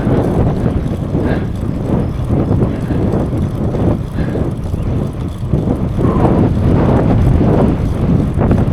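Strong, steady wind buffets the microphone while riding a road bike into a headwind along an open stretch, a loud continuous rumbling roar with gusty surges and no talk.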